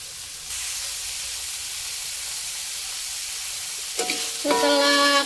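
Cabbage is stir-cooked in a pan with a little water, a steady hissing simmer that swells into a louder burst of sizzling and stirring near the end.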